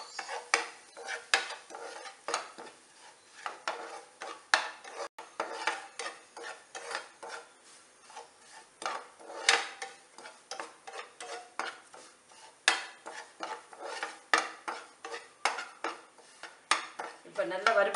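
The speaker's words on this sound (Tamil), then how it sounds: "ரவையை நல்லா பொன்னிறமாக வர்ற வரைக்கும் நல்லா வறுத்துக்கலாம்." Dry semolina roasting in a pan for a Satyanarayana prasadam, stirred with a metal spoon that scrapes and clinks against the pan in a steady, busy rhythm of close scraping strokes, with no talk.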